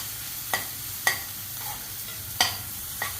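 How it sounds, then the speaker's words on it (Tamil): Onion, green chili, mustard seeds and urad dal sautéing in oil for a sirukeerai dish: a steady soft sizzle broken by four or five sharp spatula scrapes against the pan at irregular intervals, with no voices. "வெங்காயம் பச்சை மிளகா கடுகு உளுந்தம்பருப்பு எல்லாம் போட்டு எண்ணெயில் வதக்கிக்கிறோம்"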